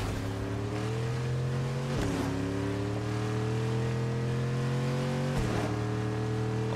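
A car engine in the Fortnite video game drones steadily with a low, constant hum, shifting pitch at two points as if changing gear, running alone without talk.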